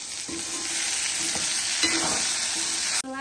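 Tomatoes sautéing in a pan for a Jaffna-style green chili fry curry, a steady bright sizzle with occasional scraping stirs, close and even, ending in a short clatter; no talking.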